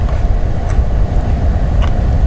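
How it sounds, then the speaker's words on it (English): A typical loud air purifier runs with a steady, dense whooshing roar of rushing air and low rumble, close and continuous with no variation and no voices. "And considering most air purifiers in his class sound like this,"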